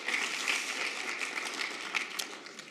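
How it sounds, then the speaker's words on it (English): A conference audience claps for the next speaker, a moderate, even wash of many hands that stays fairly faint and steady through the short span. "By a round of applause."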